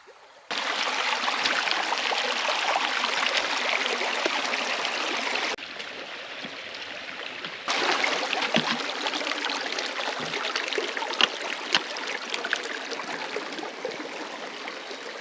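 A creek in Red River Gorge, Kentucky flows steadily nearby, a continuous rushing babble of water that briefly drops quieter before returning to full strength.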